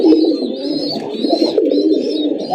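Red pigeons cooing steadily in a close group, overlapping low throaty coos with brief higher chirps throughout, fairly loud and near with no talk.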